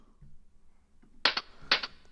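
A darkened hi-hat sample loop for a Drumcode-style techno track, processed with EQ and a bitcrushing redux: soft low thuds, then two crisp, bright hat bursts each with a quick follow-up tick, close and dry.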